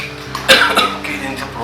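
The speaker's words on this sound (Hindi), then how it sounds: "खांसी हो रही है" A man coughs once or twice in a sharp burst during a Hindi conversation, and voices carry on around the cough.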